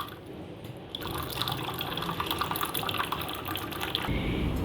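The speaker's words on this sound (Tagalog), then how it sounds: "So, mainit na tubig po yan kasi yung pula yung pinipindot natin." Hot water running from a dispenser at Hong Kong International Airport, a steady pour filling a cup over busy terminal background hum, with the flow changing near the end.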